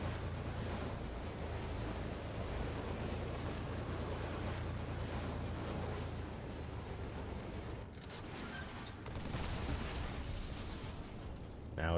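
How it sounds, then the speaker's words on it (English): Steady roaring, crackling fire on a badly damaged vehicle in Halo 3, a continuous loud wash of flame and wind-like rumble that dips briefly near the end before swelling again. "There's fire coming off of it."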